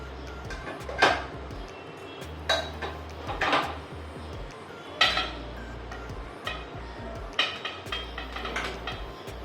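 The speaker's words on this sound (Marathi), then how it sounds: "आता आपण हे ना कुकर काढून देऊ" In a home kitchen, a pressure cooker is lifted out during modak preparation, and a few sharp metal clanks and clinks of pots ring out at intervals over a low, steady background hum.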